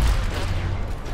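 A short, loud rumbling burst of video-game gunfire with heavy low-end booms, continuous through the moment with a faint voice underneath.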